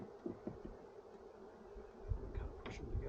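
A faint, close hum of honeybees buzzing during installation of a new hive, with soft rustles and small knocks breaking through now and then.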